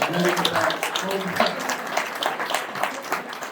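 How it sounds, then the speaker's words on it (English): Comedy club audience clapping at a stand-up special, a dense steady burst of applause filling the room, with voices mixed in. "Real quick, round of applause."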